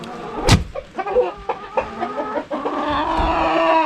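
Chickens cluck and squawk inside a deep-litter coop that holds a blue Andalusian, with a sharp close call near the start and then steady layered clucking and chatter from several birds.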